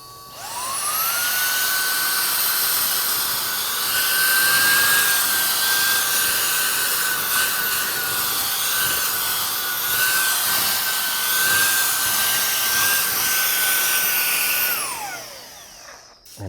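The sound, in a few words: Shark StainForce cordless spot cleaner suctioning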